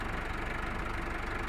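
A Fiat farm tractor fitted with a front loader runs steadily, its engine droning in a continuous low idle-like rumble that stays close and even throughout, with no voices.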